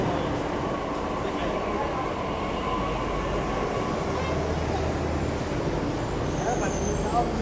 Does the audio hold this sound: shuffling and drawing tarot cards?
no